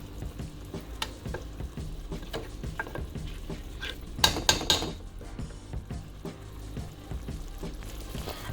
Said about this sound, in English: So let this simmer down a little more.